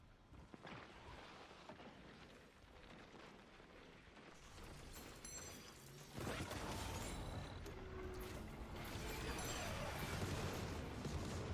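Strafing-run attack in Destiny 2 hitting enemies inside a cave: a dense, rolling barrage of gunfire and explosions that runs throughout and grows louder and heavier about halfway through.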